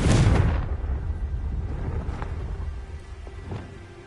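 A Confringo blasting spell in a video game goes off as a loud, close explosion with a heavy rumbling onset that fades into a lingering low roar, followed by a few fainter thuds.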